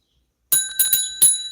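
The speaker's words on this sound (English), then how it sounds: "bell has rung" A bicycle-style bell rings out in several sharp, bright strikes after a short silence: two close dings, a third, then a final ring, each with a clear metallic tone that hangs briefly.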